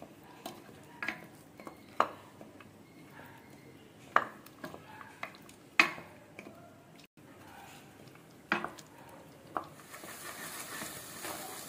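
A spoon scrapes and clinks against a pan while mutton chukka is stirred, scattered sharp metallic knocks over a faint low background, with a soft sizzle rising near the end.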